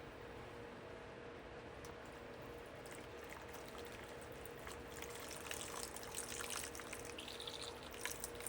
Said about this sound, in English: First thing we're gonna do is add a little bit of lightly soaped water.